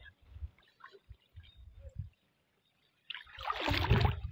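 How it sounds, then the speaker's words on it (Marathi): Water surges and rushes loudly at the Panchaleshwar shrine, following a few faint low knocks and a brief silence. The flow swells into a broad, near, continuous roar for the final second. "आज सकाळपासून पाण्याचा ओघ वाढत आहे"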